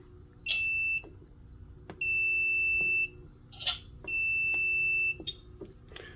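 A fire alarm system with mechanical horns sounds in three long, even tonal blasts, separated by short pauses filled with faint clicks and knocks nearby.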